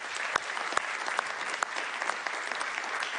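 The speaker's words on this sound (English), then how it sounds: "This is your applause." Conference audience at a European defense townhall applauds in a steady, dense burst of clapping with a few sharper claps standing out, continuing evenly throughout.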